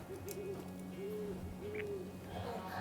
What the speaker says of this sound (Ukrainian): Ось ця сова, це сова вухата.